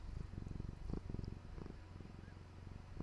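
A pet cat purrs close up with a low, steady rumble that keeps going for about three seconds, faint and continuous under a quiet indoor background.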